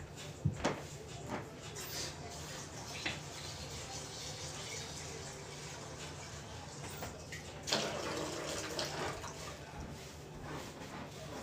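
Tap water running steadily while rice is rinsed in the kitchen, a soft continuous splashing wash with a few knocks and clinks, one louder burst partway through, and no talk.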